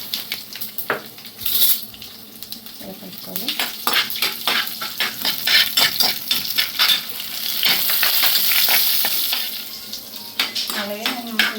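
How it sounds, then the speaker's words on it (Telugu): Mustard seeds and onions fry in hot oil for a ridge gourd curry. A spatula stirs and scrapes in quick repeated strokes over a continuous sizzle that swells in the middle, with a few pan clinks. "నేనైతే ఆవాలు వేస్తున్నాను కొంచెం ఆవాలు గీతలు కలిపేస్తున్నాను"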